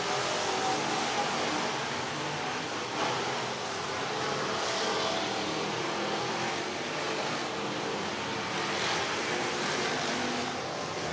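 Race cars roar around an oval at Whynot Motorsports Park in Meridian, Mississippi, a dense distant engine drone with wind-like wash, steady and unbroken, with no speech over it.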